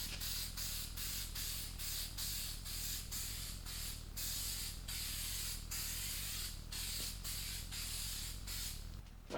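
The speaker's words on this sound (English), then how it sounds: "I'm going to be using Eastwood's Extreme Chassis Black." Eastwood Extreme Chassis Black satin paint sprayed onto a car chassis, a close, steady hiss in repeated bursts of about half a second with brief gaps between them, with no talking.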